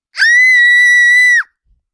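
A vocalist imitates a human scream as a Halloween sound, one loud, sustained, piercing high-pitched shriek lasting about a second, delivered alone and ending sharply into silence.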